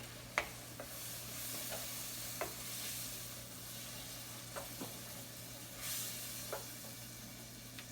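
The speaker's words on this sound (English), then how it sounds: "So while the alcohol is burning off that wine" White wine simmers in a hot pan as the alcohol cooks off, a soft steady sizzle and hiss broken by occasional faint clicks and taps, close but quiet.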